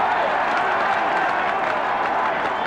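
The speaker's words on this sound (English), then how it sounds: "A roar from the crowd acknowledging that he is." A football crowd at a 1975 Norwich City versus Leicester City match roars and applauds steadily before a penalty, a loud, dense wash of noise with no break.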